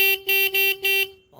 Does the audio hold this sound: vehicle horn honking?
yes